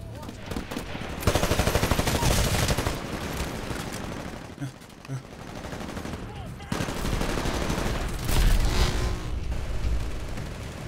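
Loud, sustained automatic gunfire in the video game Titanfall, long rattling bursts separated by short pauses, with a voice speaking briefly between volleys.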